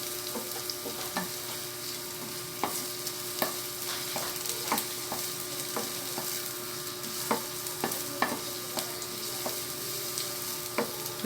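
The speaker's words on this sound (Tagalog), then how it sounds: "pwede na isunod ang sibuyas. Medyo matagal maluto ang sibuyas." Onions sautéing in a pan for creamed mongo beans, a steady broadband frying sizzle with repeated sharp clicks of a utensil stirring against the pan, close and fairly quiet.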